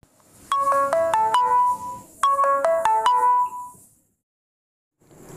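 A phone ringtone for an incoming call plays alone, loud and close: two bursts of a bright, stepped electronic melody separated by a short pause, then silence.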